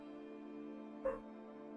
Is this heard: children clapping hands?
no